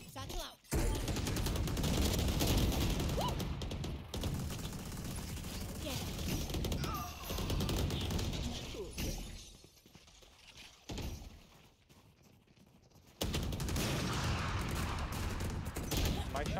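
Rapid volleys of gunfire from an online shooter video game crackle loudly and almost continuously, with a brief quieter lull before the shooting resumes, with game effects in the mix.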